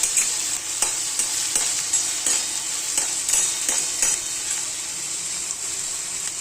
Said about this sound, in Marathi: कांदा फ्राय व्हायला ना 5 मिनिटं अवश्य लागतात.